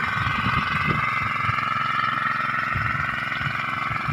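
Engine running at a drip irrigation site in Tarlac, a steady, moderately close mechanical hum with some low uneven throbbing, continuing for about four seconds.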